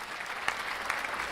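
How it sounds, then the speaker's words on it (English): Applause from the audience of a live guitar Q&A session, a steady wash of clapping across the whole short stretch with a few sharper claps standing out. "Let me give you a round of applause for that."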